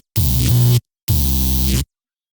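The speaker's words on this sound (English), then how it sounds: "I think it's just way too much white noise" Two short bursts of a harsh, buzzy synthesized bass tone for neuro or dubstep, thick with white noise from a vocoder patch. Each lasts under a second and is loud and close, with silence between and after.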